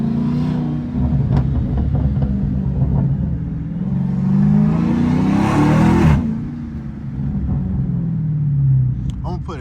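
A Dodge Hellcat with a catless exhaust revs hard, its loud, raspy engine rising and falling through several rev cycles before settling back to a rumbling idle, heard up close from inside.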